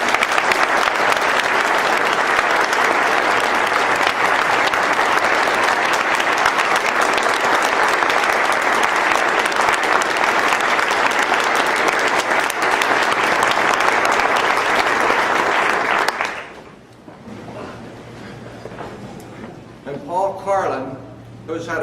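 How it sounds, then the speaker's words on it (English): An audience at a bar association president's address gives a long, loud round of applause that fills the hall, then stops abruptly as a speaker's voice begins. "Will you please join me in another round of applause to thank them for years."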